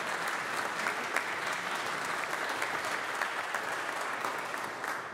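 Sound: congregation applauding in church

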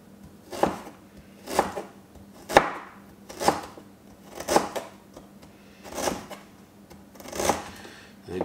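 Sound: chopping peeled ginger into small pieces for kimchi

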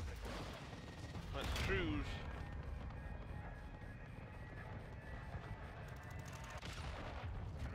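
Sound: called-in fire strike explosions in Call of Duty: Modern Warfare 2 video game

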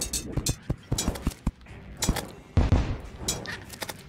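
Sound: artillery fire in the video game Terraria

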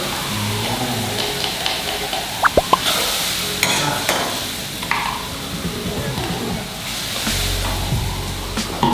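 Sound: stirring thick cream sauce with added water in a pan

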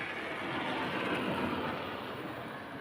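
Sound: subway electric train running

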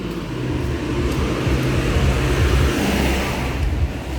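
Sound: road vehicles passing in traffic

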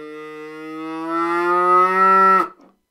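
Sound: Pakistani bagpipe reed sounding in the pipe

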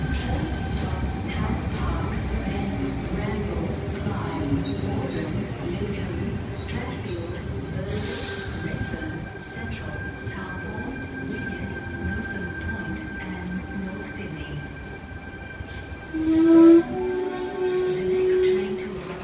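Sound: Sydney Tangara T59 train at platform 3

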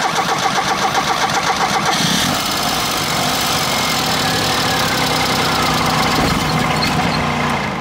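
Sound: car engine starting, with CNG gas kit

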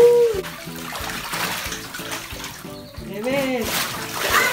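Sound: child splashing water, making waves in a pool

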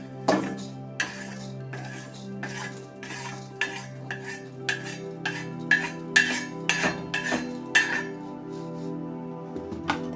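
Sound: stirring roasting urad dal in a pan

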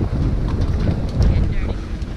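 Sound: wind blowing on a vegetable farm

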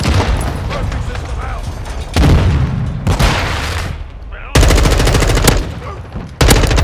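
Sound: rocket explosions in Call of Duty Modern Warfare 2 video game

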